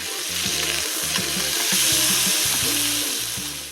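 Mahi mahi fish fillet frying in a pan on low heat, a dense, close crackling sizzle with popping oil bursts throughout, loud and steady with no voices.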